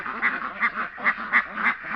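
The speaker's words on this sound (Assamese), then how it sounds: "এইবিলাক চাওক, আমাৰ হোৱাইট পেকিং হাঁহ" White Pekin ducks about four months old quack nearby in a quick, regular series of loud, nasal calls, about six in two seconds.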